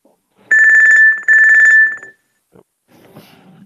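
Phone ringtone going off in an online video meeting, two loud, steady electronic ringing bursts with a short gap between them, followed by brief faint murmurs and background noise.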